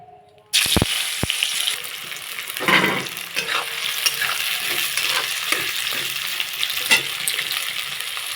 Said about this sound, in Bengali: এখন কড়াই তেল গরম হয়ে গেছে একে একে দিয়ে দেব পেঁয়াজ কুচি